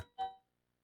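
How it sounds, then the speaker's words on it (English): A single doorbell chime sounds close by in a home, one bright tone that rings out and fades over about a quarter second, followed by near silence. "that's my doorbell."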